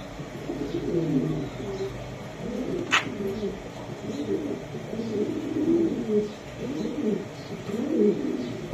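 Spanish pouter pigeons coo in repeated low, rolling phrases, close by, with a voice talking in the background and one brief sharp click partway through.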